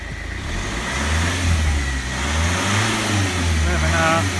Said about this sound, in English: Revving up through the range, there's no smoke.